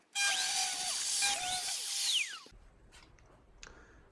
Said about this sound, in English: So I'm going to cut the shape off the longer board now.